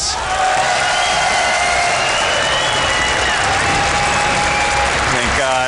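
Loud, steady applause and cheering from an esports crowd at a StarCraft II WCS Season 2 Finals quarter-final match, filling the whole stretch without a break.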